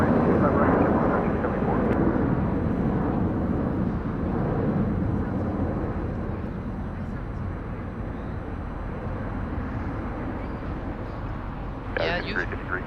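A jet airliner at LAX rolls for takeoff, a loud, broad engine roar that slowly fades as it pulls away, with radio chatter and a voice talking over it.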